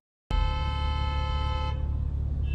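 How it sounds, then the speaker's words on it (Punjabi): A car horn blasts from behind at a highway toll plaza, one loud sustained honk lasting about a second and a half before fading into traffic rumble. "ਉਹ ਪਿੱਛੋਂ ਹਾਰਨ ਮਾਰ ਰਹੇ ਆ"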